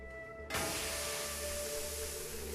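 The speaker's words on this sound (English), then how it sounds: "With a sudden hiss, propane begins filling the room." Propane gas hissing into a room in the video game Shadowrun: Hong Kong, a sudden loud, steady broadband hiss that starts abruptly and continues unbroken over a low background hum, with no voices.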